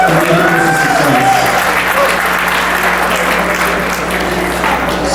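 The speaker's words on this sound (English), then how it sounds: "And give yourselves a round of applause." A gala audience breaks into loud, sustained applause, dense clapping filling the room steadily for several seconds with some cheering mixed in.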